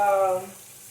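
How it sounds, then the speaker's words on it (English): Tap water running into a cooking pan in a home kitchen, a fairly loud steady stream with a rising pitch as the pan fills, easing off after the first half second. "fill me a pan up with water"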